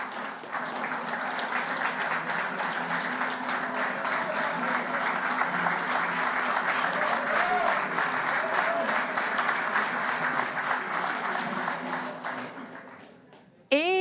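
Sustained audience applause for artist Armand Vaillancourt at a centenary celebration of L'Action nationale, a dense, steady ovation filling the hall for about thirteen seconds before cutting off abruptly.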